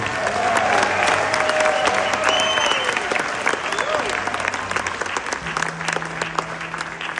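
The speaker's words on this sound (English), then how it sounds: "Give him a nice round of applause." Concert audience at a show at the Albuquerque Journal Theater claps and cheers in a sustained, loud wave of applause, with a performer talking over it through the PA.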